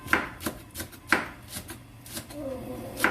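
Knife chopping green onion on a cutting board, a few sharp, evenly spaced chops with brief pauses between them, close by, with faint background noise.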